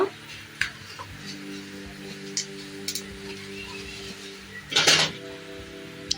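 Fenugreek seeds and spices frying in a pan for lemon rice, stirred with a utensil: soft scraping and sizzle under a steady low hum, with a few sharp clinks of metal on the pan, one louder clatter near the end.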